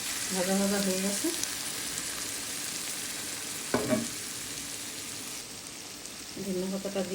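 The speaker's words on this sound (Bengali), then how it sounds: "দিয়ে দিলাম চিংড়ি মাছটা, একটু ভাজা ভাজা করে একটু জল দেব" Shrimp fry and get stirred in a pan for a dish with sweet pumpkin and whole green chillies, a steady sizzle running throughout. Brief clattering stirs come through, and a voice talks over the start and the end.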